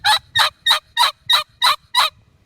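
Seven evenly spaced, loud, raspy yelps come from a turkey pot call with an aluminum surface, each a short bright burst followed by a brief near-silent gap.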